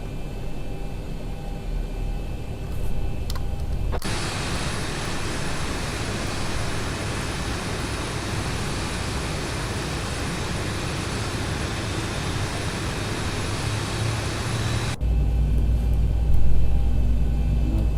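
A jet airliner's number 1 engine spools up in a flight simulator game, a broad steady roar that starts abruptly, holds loud and even for about eleven seconds, then cuts back to a lower rumble.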